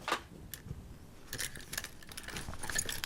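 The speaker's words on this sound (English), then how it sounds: "Moving along, I've got my car keys here" A set of car keys jangles close by in a few light metallic rattles and clinks, scattered unevenly over a quiet background with no talking.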